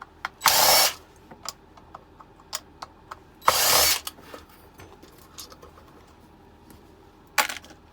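Power drill backing out three Phillips screws from the outside rim of scrap being broken down for copper and brass, heard as two loud close whirring bursts and a shorter third one, with small clicks and handling noises between.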